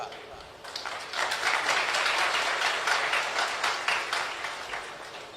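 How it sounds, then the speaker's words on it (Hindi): An audience at a Hindi religious discourse claps in a dense, steady wash that swells after the first second and holds at moderate loudness before easing slightly at the end. "अब ताली तो बजा रहे हो"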